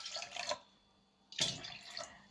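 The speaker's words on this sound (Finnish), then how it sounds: "Mä panen vielä tätä vettä tänne." Water poured from a vessel into a pot in a home kitchen while making mulled-wine pears, heard as two short bursts of splashing pour separated by a quiet pause, fairly close and moderately loud.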